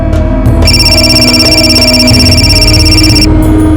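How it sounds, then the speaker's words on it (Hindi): A loud electronic telephone ring sounds continuously, a bright repeating trill sustained for a few seconds over a low background hum. "अरे किसका फोन आ रहा है बार बार?"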